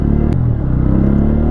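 A modified Bajaj Pulsar N160 motorcycle riding smoothly, a steady low engine drone with constant rumble heard up close, brief and without talk.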